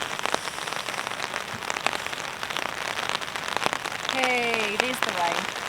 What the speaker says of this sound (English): Hey, there's the rain.